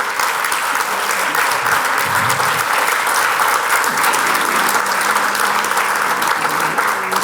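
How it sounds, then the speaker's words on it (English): An audience at a summit breakout session applauds with loud, sustained, even clapping that fills the room for several seconds, a faint murmur of voices underneath. "So give them a big round of applause."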